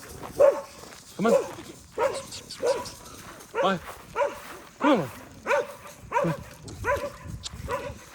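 A dog barks repeatedly at a steady pace, close by, while a person speaks briefly between the barks.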